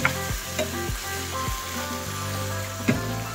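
Leftover pork litson sizzles loudly in a pan with chili garlic sauce added, a steady close frying hiss broken by a few scraping stirs, with no one talking.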